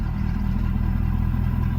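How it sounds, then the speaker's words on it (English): A close, low engine of a truck with a 6R140 transmission rumbles steadily in reverse, bogging down and straining slightly with a dull, heavy drone throughout. "Truck kind of bogs down a little bit, like it's trying to go in reverse."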